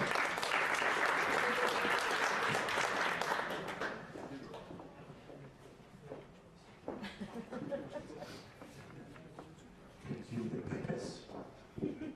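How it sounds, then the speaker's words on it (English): An audience at a business pitch session claps loudly in a dense burst of applause that fades into scattered clapping and a few individual claps, with a voice speaking faintly underneath. "give a big hand of applause for Swim Count"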